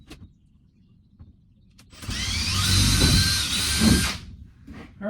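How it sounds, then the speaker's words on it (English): A power drill bores a pilot hole up through a house roof for a solar-powered vent, a steady loud whine lasting about two seconds after a quiet start, then winding down. "Now we're going to drill a quick pilot hole"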